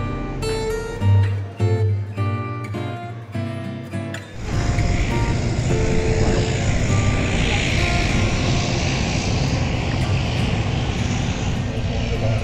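A propeller airplane arriving at Lukla airport in the Himalayas of Nepal: after a few seconds of music, a loud, steady engine roar fills the rest of the clip, close and continuous.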